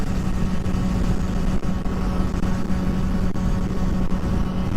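A Honda Ruckus scooter engine on a modified build, held at top revs as a loud, steady, unbroken drone with a low hum running through it, close up and with no talking.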